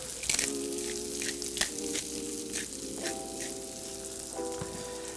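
Shiitake mushrooms and onion stir-frying on a hibachi-style pan, a continuous crackling sizzle with small spits and drips, close and steady.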